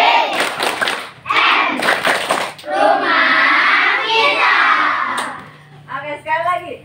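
Children in a group clapping along to the rhythmic TBM chant, with bursts of claps and chanted children's voices alternating with an adult's speech.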